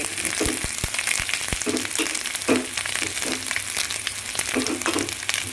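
Grated coconut sautéing in a pan for a pepper kuzhambu, giving a steady sizzle broken by repeated scraping stirs and light taps of the spatula throughout; no talking.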